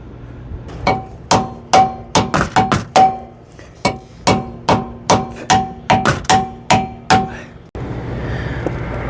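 A hammer strikes a metal RV stabilizer jack bracket again and again in quick irregular bursts, sharp ringing clangs, close and loud, then a brief hiss of background noise at the end.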